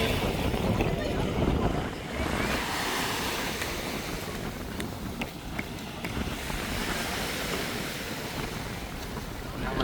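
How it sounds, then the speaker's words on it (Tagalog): Strong wind buffets the microphone in a continuous roar, mixed with the wash of surf along the shore at Puka Beach, Boracay, Philippines. "Malakas yung hangin dito."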